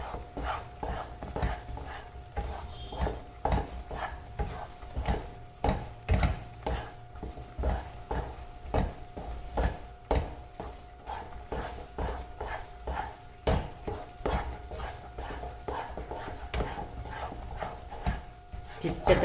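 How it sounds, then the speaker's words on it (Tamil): Almond halwa is stirred without pause in a pan, with a long, steady run of rhythmic spoon scrapes and soft thick squelches, close and moderately loud. "அதே மாதிரி கைவிடாமல் கிளறுங்க, அடியில் ஒட்டிடும்."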